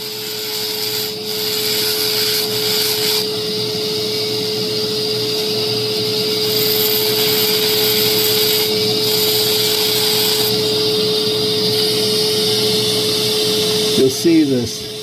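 High-RPM rotary tool carving a Fire Agate stone under light pressure, a steady loud whine with a constant tone and grinding hiss throughout, ending with a brief scraping flutter.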